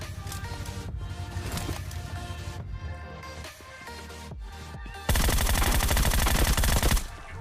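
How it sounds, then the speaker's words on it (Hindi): Rapid bursts of automatic gunfire in PUBG Mobile crackle almost continuously, building into a dense, louder volley near the end. "इस बंदे को मारने के बाद मैं गैस कैन पे भी गोलियां मारता हूँ"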